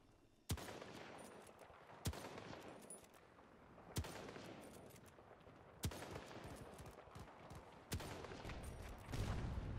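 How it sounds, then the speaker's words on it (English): Gunfire in Battlefield 2042: five evenly spaced heavy shots, roughly every two seconds, each a sharp crack over a busy background of distant battle noise, faint overall. "I was shooting at him"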